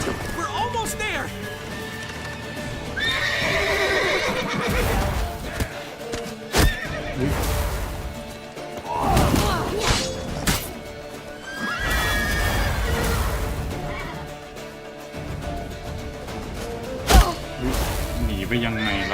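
In The Witcher 3 Wild Hunt, horses whinny and neigh repeatedly amid galloping hoofbeats, heavy thuds and crashes, a busy game battle scene with voices speaking over parts of it.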